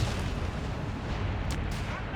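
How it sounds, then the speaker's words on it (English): Artillery barrage in Company of Heroes 3, a dense, continuous rumble of heavy shelling with overlapping booms and a couple of sharp cracking bursts near the end, loud and unbroken. "Got the savages laying down an immense barrage"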